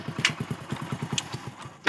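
A Hero Splendor motorcycle engine labours up a steep village slope, giving a rapid even low chugging pulse at close range, with brief higher bursts at moments and no talk.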